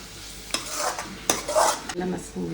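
Tomatoes stirred and sautéed in a pan for a Tirunelveli-style chicken curry, with scraping utensil strokes and bursts of sizzle close by, a few sharp clanks against the pan.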